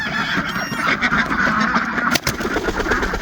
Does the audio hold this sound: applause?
no